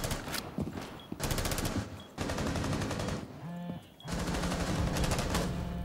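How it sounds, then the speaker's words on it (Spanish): Rapid automatic gunfire in Rainbow Six Siege ranked play, loud bursts of sustained shots broken by short pauses, with a brief quieter gap of handling sounds midway. "les llegan los tiros, pero no detecta"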